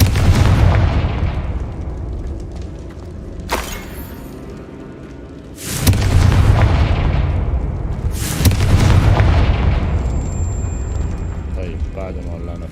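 Confringo fire spells in Hogwarts Legacy, bursting as repeated loud booming explosions, about three strong blasts spaced a few seconds apart, with a voice talking throughout.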